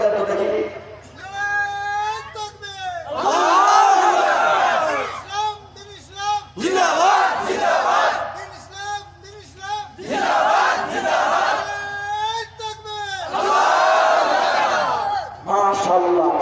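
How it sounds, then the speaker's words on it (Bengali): A crowd at a political rally in Mohammadpur roars the Takbir slogan in loud, repeated call-and-response bursts, a lead voice alternating with massed shouting from the gathering. "একবার নারে তাকবীর স্লোগান দেন তো দেখি"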